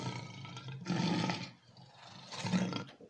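A lion gives two deep roars, each lasting about half a second and separated by a brief pause, heard up close with nothing else around them.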